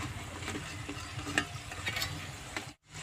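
Finger pakoras deep-frying in oil make a dense, steady sizzle and bubbling with light stirring clicks, close and even. The sound cuts out abruptly near the end.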